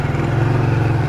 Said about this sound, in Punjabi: ਮੋਟਰਸਾਈਕਲ।